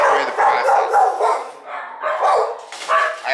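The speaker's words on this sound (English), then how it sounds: "he's making a lot of noise for a little dog." A little dog barks and yaps repeatedly up close, loud and continuous, with whimpering tones mixed in during a dog training session.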